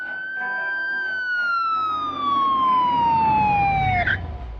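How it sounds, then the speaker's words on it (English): A police car siren in Batman: The Telltale Series wails loud and close in one long descending sweep, then cuts off with a clunk as a low rumble swells underneath. "Police car."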